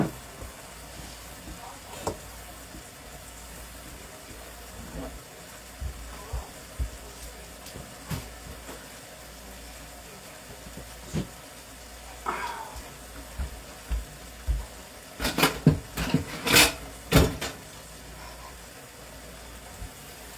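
Onions and pork sausage browning in a pan with cabbage, a low soft sizzle with scattered clicks and a short cluster of louder stirring scrapes near the end.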